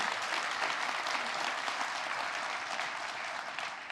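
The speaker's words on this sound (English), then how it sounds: "yes, absolutely, you can applaud that" Audience at a political lunch event applauding, sustained dense clapping from a large crowd at even volume, tapering slightly near the end, no speech over it.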